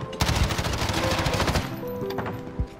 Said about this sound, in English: okay, so I'm tap firing